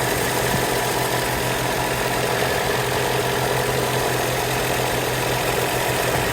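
A Honda Civic engine runs at a steady idle, a continuous mid-pitched hum with a faint rattling vibration throughout, fairly close and loud, with no talking.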